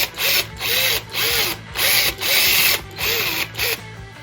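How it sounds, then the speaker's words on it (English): A power drill bores out a hole in a guitar neck, running in about seven short bursts with brief pauses between them, close up and loud. "so I'm gonna go ahead and drill it out some more."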